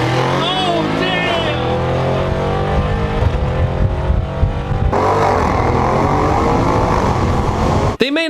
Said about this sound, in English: Going on my daily commute. It has a twin turbocharged V8.